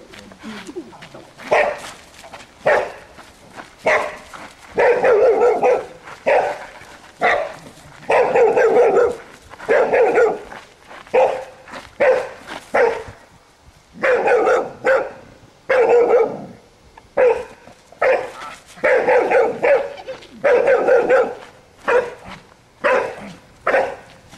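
A Spanish water dog barks repeatedly in an outdoor temperament test, short bursts of sharp barks in irregular clusters with brief pauses, close and loud, with occasional faint whimpers and some voices in between.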